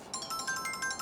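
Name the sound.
phone ringing with an incoming call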